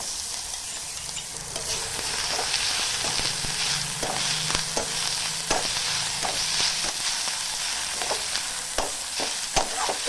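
Crushed garlic cloves and green chillies fry in a pan for a Bengali bori begun dalna, a dense continuous sizzle broken by repeated clicks and scrapes of stirring, close up and without speech.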